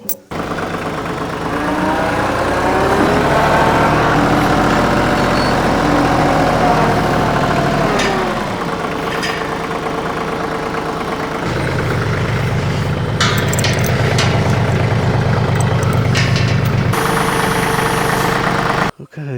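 Tractor loader engine idling and working under load while lifting a farm gate on a chain, a loud continuous diesel rumble with a shift in pitch midway and clanking near the end.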